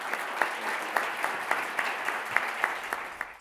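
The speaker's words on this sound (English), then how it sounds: "So let's give Dan and Peter a round of applause again," Audience applause for Dan and Peter at an annual meeting's recognition and awards session: steady, dense clapping from a sizable crowd that holds evenly for several seconds, with a few sharper individual claps standing out.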